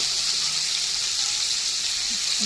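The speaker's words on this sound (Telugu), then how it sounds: "నేను ఆనియన్స్ వేసాను నెక్స్ట్ టమాటాలు కూడా వేసేస్తున్నాను" Onions and tomatoes fry in a pan for a fish curry, giving a steady, moderately loud bright sizzle with a low background hum and no voices over it.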